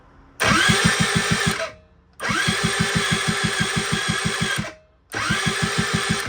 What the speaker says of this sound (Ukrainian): Так, включаємо зажигання і пробуємо.